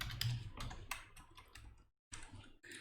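Quiet computer keyboard typing in short clustered bursts of key clicks, close and soft, with a brief silent pause partway through.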